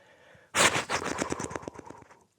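A human voice imitates doves' wings flapping with a rapid, rattling burst of fluttering pulses, loud at first and gradually thinning out before stopping after about a second and a half.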